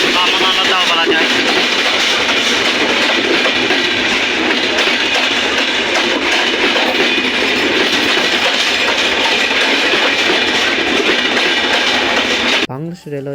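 The Drutojan Express, a Bangladesh Railway train on the Panchagarh to Dhaka route, roars past close and loud with continuous rumbling and clattering wheels on the rails, cutting off abruptly near the end.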